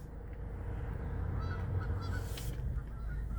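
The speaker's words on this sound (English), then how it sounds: "There's a ton of seagulls outside." Seagulls call outside a parked car, a few faint, distant squawks over a steady low rumble of wind and traffic, with no talking.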